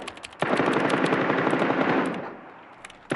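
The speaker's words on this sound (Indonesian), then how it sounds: "Tiba-tiba terdengar suara tembakan dari luar apartemen" Machine-gun fire rattles outside an apartment in the 2020 zombie film Alive: a loud sustained burst of rapid shots lasting under two seconds, then a brief tail and a final crack.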